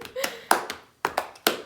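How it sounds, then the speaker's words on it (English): Hand clapping during a clinical neurological exam, sharp separate claps at an uneven, fairly quick pace, close and fairly quiet, with short gaps between them. "clap as fast as you can"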